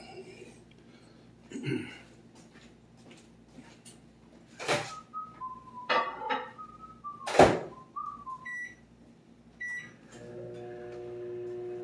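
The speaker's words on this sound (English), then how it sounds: "let me pop this in the microwave real quick." Kitchen noises with clunks and a microwave door shutting, a few beeps, then the microwave's steady hum starts near the end.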